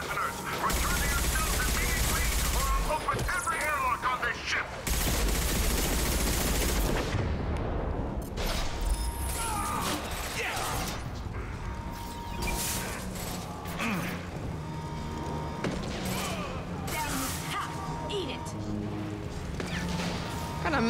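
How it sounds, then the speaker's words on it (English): Missiles fire and burst in repeated loud, crashing blasts during a Mass Effect 2 combat sequence, with mechanical clatter and gunfire-like bursts running throughout, overlapped by occasional speech. "What missiles are these? These seem very weak."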